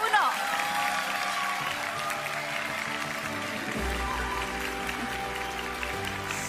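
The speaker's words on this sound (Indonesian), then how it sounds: "kita langsung sambut dengan tepuk tangan yang meriah juga ya, pasangan calon nomor urut 3 Anies Baswedan dan Sandiaga Uno" At a stand-up comedy event themed on a regional election, an audience applauds candidates Anies Baswedan and Sandiaga Uno with a steady wash of clapping mixed with a low background tone, neither loud nor faint.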